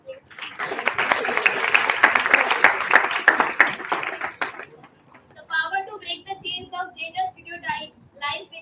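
Audience applause welcoming a guest at an event, a burst of many hands clapping for about four seconds before fading, then people talking in the hall.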